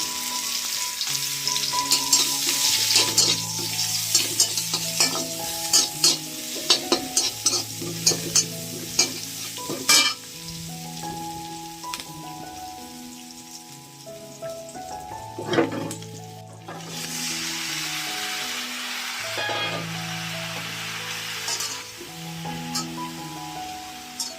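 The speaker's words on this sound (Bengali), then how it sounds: "এইটুকু তেলের মধ্যে রান্না করবো পেঁয়াজ ফোড়ন দিয়ে দিয়েছি" Onion tempering sizzling in a little oil for a ridge gourd curry, a steady hiss heard up close with repeated utensil stirs and scrapes and tonal clinks throughout.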